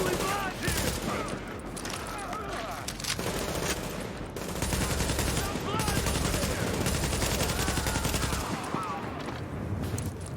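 Sustained automatic fire from an RPK machine gun in a survival video game, loud and continuous with dense rapid bursts across the whole stretch, and a voice talking faintly under it.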